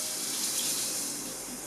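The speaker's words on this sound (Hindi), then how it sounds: "अब एहतियात से इसके अंदर हम पानी डालते जाएंगे।" Water is poured steadily into semolina and sugar roasting in a pan for halwa, a close, continuous hissing gush with no voices.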